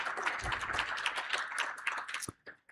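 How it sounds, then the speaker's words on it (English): An audience at a panel discussion on a treatment and detox centre gives a speaker a short round of dense clapping. The applause stays steady and moderately close, then fades out abruptly. "Round of applause for Esther."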